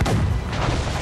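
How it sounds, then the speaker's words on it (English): Mortar fire from a ship during a naval battle in Assassin's Creed Rogue: a heavy, booming blast with a rumbling tail that fills the whole short moment. "They're firing mortars!"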